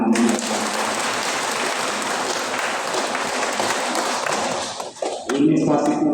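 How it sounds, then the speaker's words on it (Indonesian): Congregation applause after singers at a Pentecost Mass in a parish church, sustained dense clapping for about five seconds, then breaking off as a voice begins speaking. "Sekali lagi tepuk tangan mereka."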